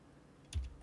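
A single short burst of key clicks on a computer keyboard, close and quiet, as a word is typed, with no talk.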